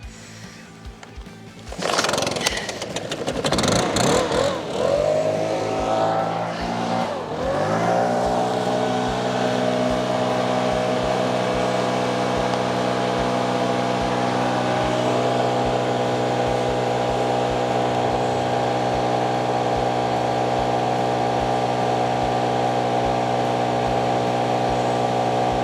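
A large gas-powered leaf blower starts with a few rough pulls and sputters, then settles into a loud, steady high-revving drone that runs on continuously, close by and with no talking.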